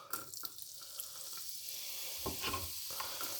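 Onions and garlic frying, a fairly quiet steady sizzle with a few soft knocks and shuffles near the start, no voices.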